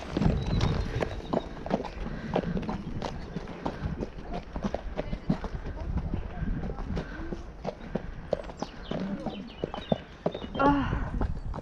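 A tall pony ridden under saddle in a French riding session, steady clip-clop of hooves walking on firm ground at moderate distance, with a rider's voice talking over the rhythm and a brief whinny near the end.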